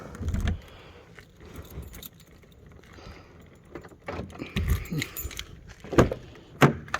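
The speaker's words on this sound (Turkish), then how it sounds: "Bir dakika bir de şu kapıyı açayım." Jangling keys and clunks while the door of a seven-seater car is opened, a series of close metallic rattles and knocks at irregular intervals with no talking.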